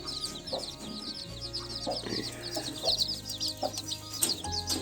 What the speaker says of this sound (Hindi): आगे एक मुर्गी है, ये डॉटेड वाली, ये बड़ी प्यारी जो है मदर है जी